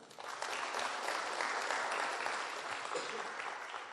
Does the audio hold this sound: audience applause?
yes